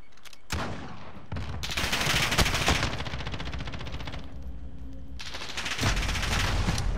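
Rapid automatic gunfire in multiplayer Call of Duty: Modern Warfare, long dense bursts broken by short pauses, loud and close.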